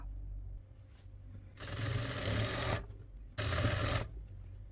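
Sewing machine stitching the neckline of a nighty in two bursts of steady, close mechanical whirring, the second shorter, separated by a pause, with no talk.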